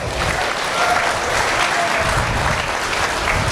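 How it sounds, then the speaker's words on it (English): A crowd at a swine show gives a big round of applause, loud, dense and steady clapping from many hands that fills the whole few seconds. "Let's give these 5 individuals a big round of applause."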